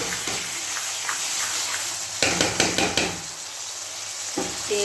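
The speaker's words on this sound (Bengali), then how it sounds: "আলু পটল চিংড়ি মাছ দিয়ে দিয়েছি তেল ছেড়ে দিয়েছিল এবার ভালো করে একটু কষিয়ে নেবো" Potato, pointed gourd and prawns frying in spice masala, a continuous close sizzle broken by a burst of rapid spatula scrapes and clatters against the pan, no speech.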